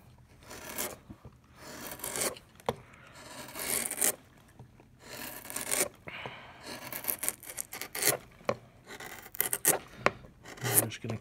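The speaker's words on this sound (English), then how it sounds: "I'm just going to carve away" A gouge carving the spruce top of a violin, producing irregular scraping and rasping strokes with short bursts and pauses, close and fairly loud, with a few knocks.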